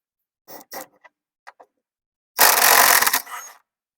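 A ratchet wrench on a shock absorber bolt of a Volkswagen Beetle gives a few sparse clicks, then a fast, dense burst of ratcheting lasting about a second, close and fairly loud.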